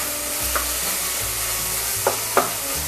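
Tomatoes sautéing in a pan for Tamil-style tomato rice, with a steady sizzle and a few sharp scraping knocks of a spatula against the pan.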